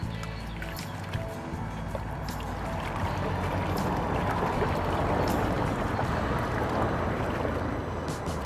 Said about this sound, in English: Let me just wash that root off, see what it looks like.